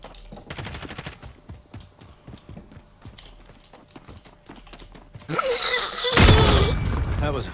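In a video game, a rhythmic patter of clopping steps plays for several seconds, then a sudden loud burst of rapid gunfire erupts with a bright shattering crash.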